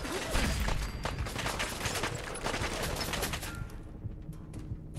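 Enemy gunfire in the Fallout 4 video game, dense rapid bursts of automatic shots crackling almost continuously for several seconds, loud and close, easing slightly toward the end.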